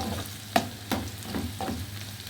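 Garlic sautéing in a pan with sujuk for fava beans: a steady sizzle broken by about four rhythmic spoon scrapes as the mix is stirred, close and clear.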